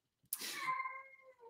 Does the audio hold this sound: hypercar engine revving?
no